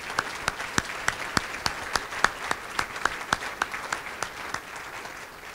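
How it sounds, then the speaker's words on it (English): Audience applause at a museum reopening gala, a steady wash of many hands clapping with crisp individual claps standing out, moderately loud and sustained for several seconds without talk. "A round of applause for these wonderful folks."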